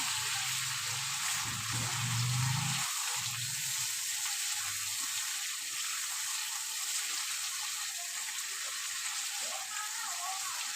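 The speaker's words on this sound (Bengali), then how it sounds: "মশলাটাকে বেশ ভালো করে আমি কষিয়ে নেব।" Masala paste of chili powder and cumin powder frying in a pan for a tilapia curry, with a steady close sizzle throughout and a faint voice murmuring briefly early on.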